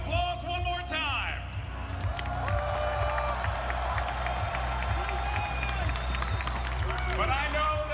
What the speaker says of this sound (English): Ladies and gentlemen, your contenders, give a round of applause one more time.